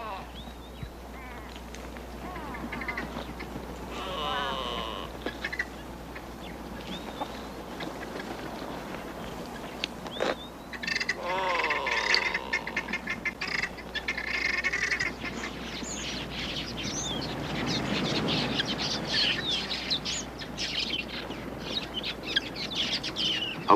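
A flock of quelea birds raids an African waterhole, a busy mass of chirps and chattering calls with wingbeat flurries and splashes, continuous over steady background noise, with a narrator speaking at times.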